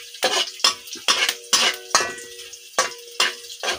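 A utensil scrapes and clinks against a pan in quick, evenly spaced strokes as garlic fries in butter and dairy cream, with a faint sizzle under the stirring.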